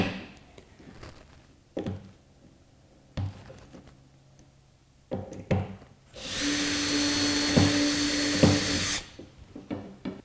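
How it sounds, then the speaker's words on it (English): A power drill bores a hole in a workbench with a drill bit, one sustained whirring run of about three seconds, framed by scattered clunks and knocks of the tool and parts being handled nearby. "After I drill that one hole, then I'll just move everything up"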